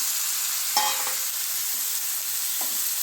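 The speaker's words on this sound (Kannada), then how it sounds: "ಇದಕ್ಕೆ ನಾನು ಕಟ್ ಮಾಡಿ ತೊಳೆದಿಟ್ಕೊಂಡಿರೋ ಮಿಕ್ಸ್ ತರಕಾರಿಗಳನ್ನು ಹಾಕ್ತಾ ಇದ್ದೀನಿ" Cut mixed vegetables hit a hot pan for veg gojju, setting off a steady, close hiss of sizzling oil with a brief clatter as they drop in and a soft stir near the end.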